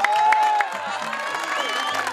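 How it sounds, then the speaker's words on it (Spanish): A crowd applauds a medal winner at a ceremony, with steady clapping and cheering and a voice speaking over it. "el aplauso"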